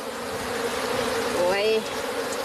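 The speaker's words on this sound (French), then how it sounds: "beaucoup de gens savent maintenant qu'il y a beaucoup d'abeilles dans la mangrove" Bees buzz steadily through a mangrove near Joal, a dense insect drone over a constant hiss, with a brief rising whine standing out near the middle.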